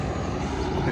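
A John Deere tractor rumbles past on a road, its deep engine drone loud and close, heard briefly with no voices.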